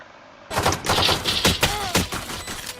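Rapid video game gunfire rattles out in dense bursts of repeated shots for a couple of seconds, loud and alone.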